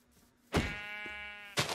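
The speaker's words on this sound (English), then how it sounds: "There is a sheep." A sheep in the video game Minecraft bleats once, a loud, close wavering call lasting about a second, and a second bleat begins right after.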